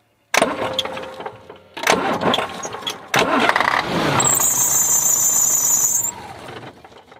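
A car engine cranks over twice, then catches and settles into a steady idle as a high, piercing belt squeal rises above it and cuts off before the motor goes quiet; the sound is loud and close, with no talking.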